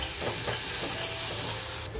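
Onions frying with salt in a pan are stirred, a dense continuous sizzle with a few scraping strokes, close and alone.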